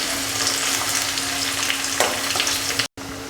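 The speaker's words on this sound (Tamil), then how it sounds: "பூண்டு சேர்த்து ஒரு வதக்கிட்டு அதுக்கப்புறமா வெங்காயம் சேர்க்கலாம்" Garlic sizzling steadily in hot oil in a pan for village-style fish kulambu, a dense continuous frying hiss with light stirring scrapes, close up and without talk.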